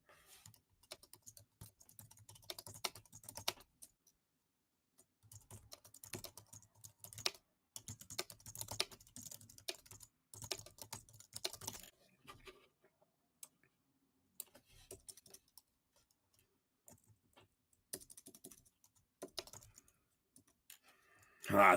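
Someone types on a computer keyboard in bursts of quick, light clicks separated by pauses, faint and close, alongside a low hum.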